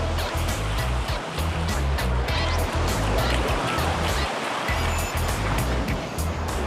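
Ocean waves break and surge steadily on Bondi Beach, a continuous loud, close wash of surf with deep low rumble and no clear pauses.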